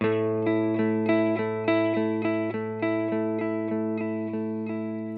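A guitar power chord from a song rings out, its plucked strings struck in a steady rhythm of repeated attacks, close and clean with sustained harmonics.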